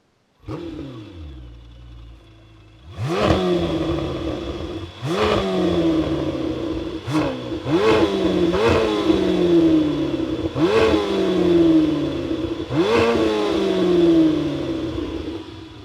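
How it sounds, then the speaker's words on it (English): A 2026 Lamborghini Temerario V8 engine cranks and fires up, then revs repeatedly in sharp, loud bursts that rise and fall, heard from nearby outdoors. "now we will be listening to the sound of the all new Lamborghini Temerario from the outside"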